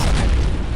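A Panzerfaust anti-tank rocket in the World War II shooter Brothers in Arms: Earned in Blood hits with a single loud, deep boom that fills the whole short moment with a heavy low rumble.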